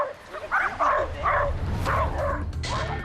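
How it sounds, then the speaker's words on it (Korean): A dog in a park lets out a run of loud, close yips and howling barks in irregular bursts, with a few whimpering notes in between. "공원의 평화를 무참히 깨버리는 루이의 울부짖음"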